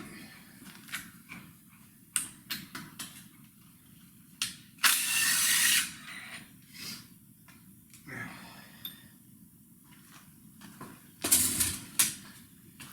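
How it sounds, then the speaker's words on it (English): A ratchet clicks in short bursts while working crank pulley bolts loose on a Bel Air, with scattered clatters and two louder mechanical rasps, and someone talks at intervals between them. "we'll take this crank pulley out"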